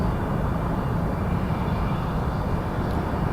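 Air Canada Rouge Airbus A320 from Victoria landing at Toronto Pearson, a steady broadband jet roar filling the whole stretch at constant loudness, no voices.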